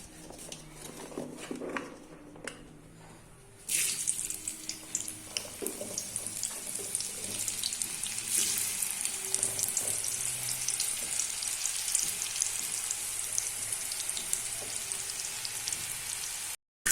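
Boiled Indian gooseberries drop into hot oil for pickle-making, setting off a sudden loud, steady sizzle and crackle that continues close up after a brief quieter stretch of kitchen sounds.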